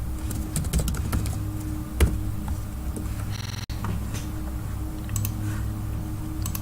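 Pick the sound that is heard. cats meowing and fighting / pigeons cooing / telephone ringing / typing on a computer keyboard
typing on a computer keyboard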